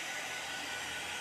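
A dryer blows a steady, even rush of air over a small painted sign, close and continuous throughout with no voices.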